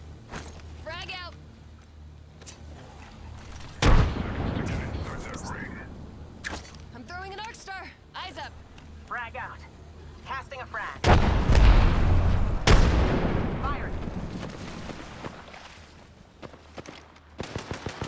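Frag grenade blast in Apex Legends with a sharp boom and rumble, set among other gunfire and explosions in a busy firefight, a second heavy burst following later, with quiet speech underneath.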